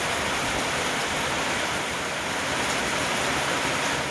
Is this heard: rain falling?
yes